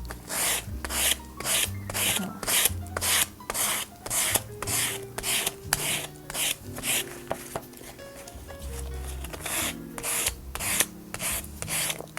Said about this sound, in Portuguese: Esse aqui tá sequinho, acho que já dá para lixar também.